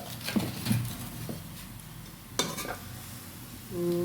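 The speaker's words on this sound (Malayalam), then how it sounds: "അങ്ങനെ നമ്മൾ എല്ലാ ചിക്കനും ഇട്ടിട്ടുണ്ട്" Chicken pieces are stirred in a hot pan for a chicken curry. A few scraping spoon strokes and light clinks sound over a gentle, close sizzle, which swells louder at the end.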